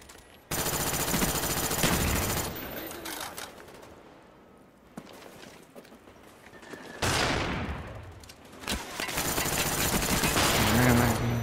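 Gunfire in the Call of Duty Black Ops video game: rapid automatic bursts, loud and close, in long sustained volleys broken by a quieter lull, then heavy firing resumes to the end.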